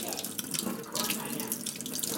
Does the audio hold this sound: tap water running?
yes